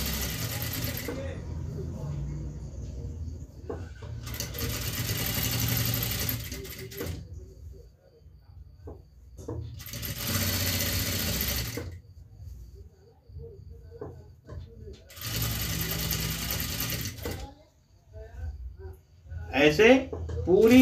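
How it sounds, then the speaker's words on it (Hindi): A sewing machine stitches fabric piping onto a blouse in three bursts of steady, close, rapid whirring, with pauses between where someone speaks. "ऐसे पूरी पाइपिंग पर आराम से सिलाई चलाते जाइए"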